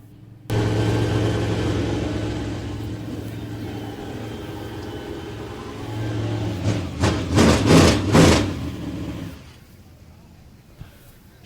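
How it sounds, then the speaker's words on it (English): A race car engine idles in the winner's circle on the front straightaway after the race, a steady low rumble. A few sharper blips come near the end before it cuts off and quiet background noise remains. "Shuts the engine down in the winner's circle down there on the front straightaway."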